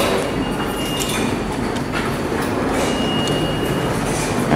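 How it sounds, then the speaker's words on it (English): Subway train pulling into a station on Main Street in Flushing, a loud steady rumble of rail cars with clattering wheels filling the platform, close and continuous throughout with no talk. "there is a train approaching the station."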